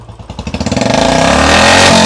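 A Royal Enfield Electra motorcycle exhaust revs under throttle, pulsing low thumps quickening into a loud sustained roar, very close.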